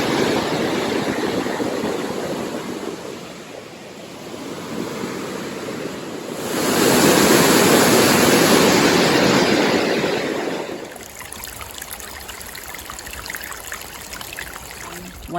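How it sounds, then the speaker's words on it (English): South Jacobs Brook in New Hampshire rushing over rocks, a loud continuous watery roar that swells louder in the middle, then thins into a lighter trickling babble near the end, with no voices. "This is what they call a brook in New Hampshire. This is South Jacobs Brook."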